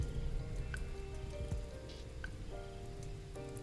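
Rain falls steadily on a surface, a continuous close hiss with scattered drop taps, while faint sustained tones sit underneath.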